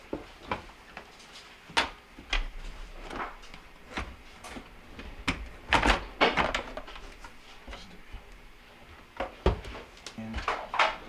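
Clicks, knocks and plastic clatter as the panels come off a KitchenAid dishwasher that will not start, with a series of sharp, close handling sounds spread irregularly over about eleven seconds, mixed with a little speech.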